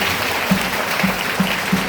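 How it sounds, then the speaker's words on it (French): A congregation at a prayer assembly claps together, a dense wash of applause with a few stronger, evenly spaced beats standing out, loud and close throughout. "Acclamez Dieu pour ses sangs chez Dieu."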